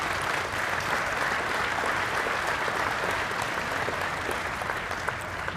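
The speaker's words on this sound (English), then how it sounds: "Big thunderous applause from the crowd." Loud, sustained applause from a large crowd filling the room at the Women's Open archery finals of the 2018 Lancaster Archery Classic, a dense steady roar of clapping throughout.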